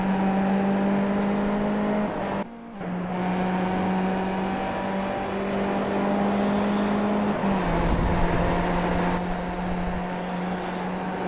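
Skip Barber race car engines at Mosport held at a steady high drone, nearly flat out with small shifts in pitch and a brief dip, loud and continuous with no talk.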